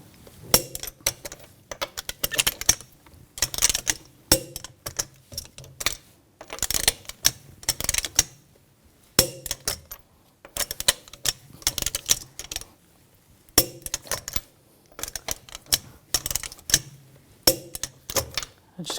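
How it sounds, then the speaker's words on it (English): Torque wrench tightening the wheel lug bolts on a 2000-2006 BMW X5 in a cross pattern, sharp metallic ratchet clicks in repeated quick bursts separated by short pauses, close and clear. "Now we're going to torque those lug bolts to 111 foot-pounds in a cross pattern to tighten the wheel down evenly"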